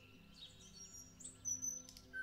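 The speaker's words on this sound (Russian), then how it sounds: "среди пения птиц" Birds sing in a May forest, with scattered chirps and tweets rising and falling at a soft, distant level and a brief brighter call near the end.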